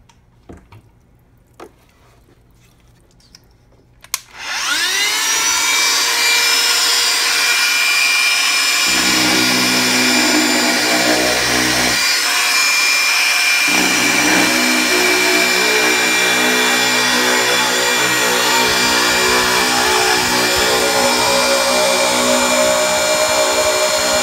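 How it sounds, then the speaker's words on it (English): A handheld drill with a wet diamond bit and water feed bores into a TAKTL concrete board. After a few quiet seconds the motor starts abruptly and runs as a loud, steady high whine for about twenty seconds with no talking. "we're using a manual polish here with a water feed"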